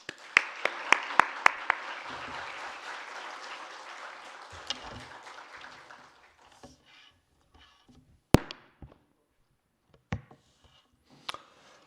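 A church congregation applauds warmly for several seconds during a Sunday service, welcoming a pastor, with a few sharp claps standing out, then the clapping thins to scattered claps and silence.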